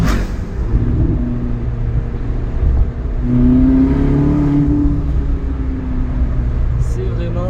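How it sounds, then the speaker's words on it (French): A Ferrari California engine revs while driving, its rising tone swelling in the middle of the drive beneath steady cabin noise as a person talks excitedly over it. "C'est le kiff de conduire une Ferrari. Écoutez ça."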